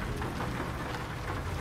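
Rain falls steadily in the trucking game Euro Truck Simulator 2, a soft, even hiss of drops without a break, faint and alone with no talk over it.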